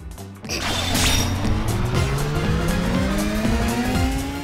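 Video game car engines rev steadily in Ape Escape 3, and a rising harmonic whine climbs over a loud, continuous roar. Brief tire squeals and skids break through the engine noise, with no talking.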